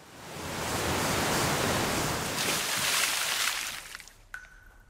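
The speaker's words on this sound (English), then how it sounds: "When they arrive at the bottom, water from the waterfall falls on top of them." A waterfall pours in a steady, loud, broadband rush of falling water that swells and then fades, ending with a faint clatter, with no voices present.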